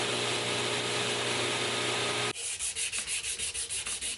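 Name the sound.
hand sanding a knife with 200 grit sandpaper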